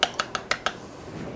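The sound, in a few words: beating an egg in a bowl with a utensil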